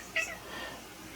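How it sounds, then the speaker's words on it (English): A pet cat lets out a single short meow, faint against the quiet background. "That's my cat."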